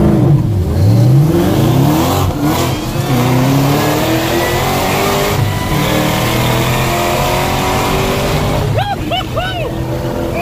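A car launches hard from a traffic light, its engine revving up in steep climbing sweeps through the gears, loud and near, while people in the car talk and shout over it.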